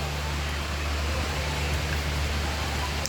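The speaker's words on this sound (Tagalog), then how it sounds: "Maambon-ambon ngayon." Light drizzle falls on a farm during a typhoon, a dense, steady hiss of fine rain with a low hum underneath and no talk.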